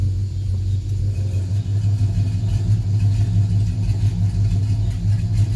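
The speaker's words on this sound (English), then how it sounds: "That's closed, or excuse me, that's open." A Ram R/T truck engine idles nearby with its exhaust cutout open, a low, throaty, steady rumble, continuous and loud with a slightly louder exhaust note, no voices.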